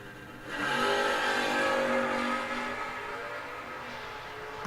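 A Camaro and an El Camino launch side by side at a drag strip, engines surging into a loud, rising roar that peaks after about a second and then trails off down the track.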